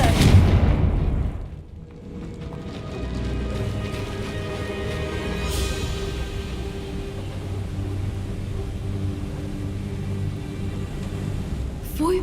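A Confringo fire spell blasts in Hogwarts Legacy, a loud booming burst at the start that fades into a sustained low rumble of background game ambience.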